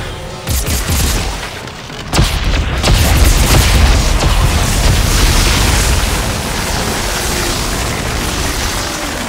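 Heavy gunfire and booming blasts in Dead Space 3 fill the space in a dense, continuous wash of shots and impacts, loud and close, with no voices over it.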